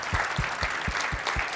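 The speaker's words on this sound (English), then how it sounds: "so a round of applause for all of you." Audience applause at JSConf Iceland 2018, a JavaScript conference, fills the hall with steady broadband clapping, with a few sharper individual claps standing out at a regular beat.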